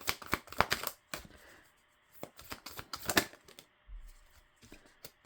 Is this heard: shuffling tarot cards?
yes